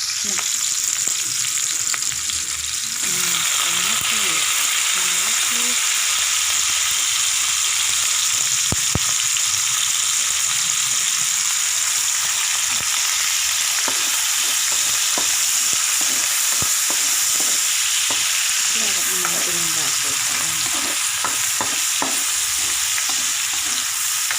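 Tomatoes sizzling in a pan of oil for adobong sitaw and okra with pork belly, a loud continuous frying hiss with scattered stirring scrapes, close up with no voice.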